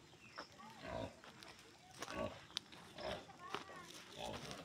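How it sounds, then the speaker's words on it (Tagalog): Native pigs on a mountaintop near Little Tagaytay grunt in soft repeated bursts, close but fairly quiet, with people talking and moving about nearby. "Native na mga baboy ito, no?"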